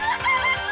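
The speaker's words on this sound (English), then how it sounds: "I guess we'll look at all the chickens." Chickens cluck and warble together in the video game Danganronpa: Trigger Happy Havoc, a short, close burst of overlapping bird calls.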